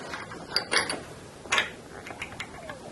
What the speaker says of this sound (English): Now we just got to tighten this up, and for that I'll put it in the vise.